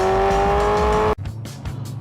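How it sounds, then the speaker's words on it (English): A sports car's exhaust roars loudly with the exhaust setting turned all the way up, a steady high-revving drone that cuts off abruptly, followed by lower rumbling engine noise. "turns the exhaust all the way up to"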